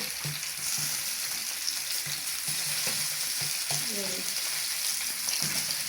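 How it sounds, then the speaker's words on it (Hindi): Finely chopped onion frying in oil for moong and masoor dal, a steady close sizzle with soft stirring taps throughout. "इसके अंदर आप डालते हैं एक बड़ा प्याज, वो मैंने बारीक बारीक काट लिया"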